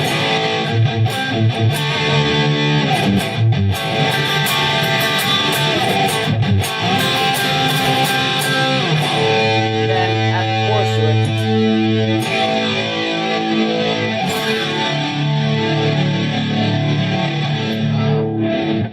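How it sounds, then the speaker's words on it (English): An electric guitar played through a Theta Pro DSP plays heavily distorted, high-gain riffs and chords, loud and sustained throughout. "You can go with higher gain distortion."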